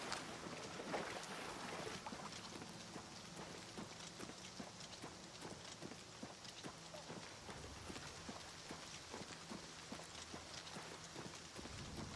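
Horse hooves in the video game Oblivion Remastered, a steady run of clopping steps splashing through water, mixed with a wet, rain-like wash and occasional faint voices.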